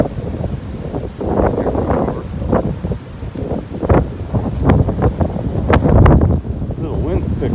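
Wind picks up along a trail in Olentangy Park, buffeting the microphone in irregular gusty thumps with some rustling close by.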